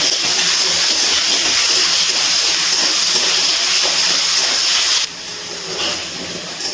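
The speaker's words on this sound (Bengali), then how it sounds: "এবার আলুগুলো ভালো করে লাল লাল করে ভেজে নিচ্ছি।" Potatoes rubbed with salt and turmeric fry in oil, a loud, close, steady hissing sizzle that drops suddenly to a quieter sizzle near the end.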